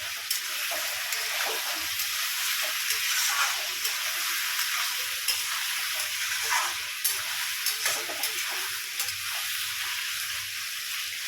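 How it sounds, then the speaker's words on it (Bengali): Continuous hissing sizzle of chicken gizzard and liver frying in a pan, close by, with soft scraping and stirring sounds breaking through now and then. "দেখুন ভাজা ভাজা হয়ে গেছে আমি একটু নাড়িয়ে নেবো"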